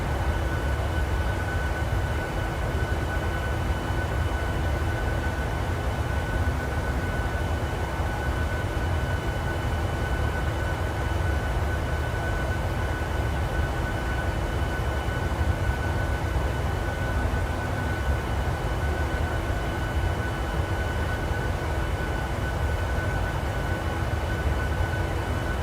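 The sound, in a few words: aircraft engine in a virtual airline flight simulator video game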